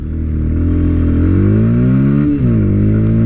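Bajaj Pulsar P150 motorcycle pulling away from standstill in first gear, its engine note climbing steadily and loudly up the revs, briefly dipping at a gear change before rising again, close to the listener.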